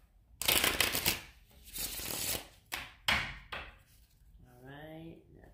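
Riffled card shuffling in several quick bursts, close and fairly loud, with a soft voice briefly murmuring near the end.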